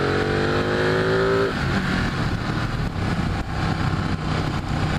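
A motorcycle takes off on a sunset ride: the engine revs up with a rising whine in the first second and a half, then roars steadily at speed with wind rumble, loud and close.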